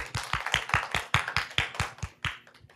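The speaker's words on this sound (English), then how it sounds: "Let's get a round of applause." A small audience claps at the close of a career talk, a sparse, uneven patter of individual hand claps at moderate distance that thins out and fades over a few seconds.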